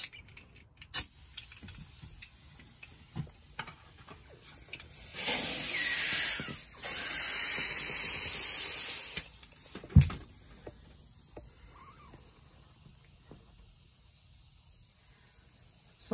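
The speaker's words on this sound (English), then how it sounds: "try to increase the volume of air at one time by removing the valve stem" Air rushes hard into a tubeless bicycle tire through its open valve with the stem core removed, two loud hissing bursts of about two seconds each amid quiet background clatter.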